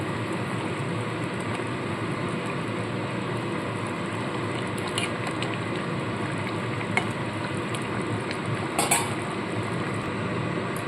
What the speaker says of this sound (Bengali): ভালো করে সমস্তটা চারিপাশ দিয়ে নেড়ে চেড়ে দেবো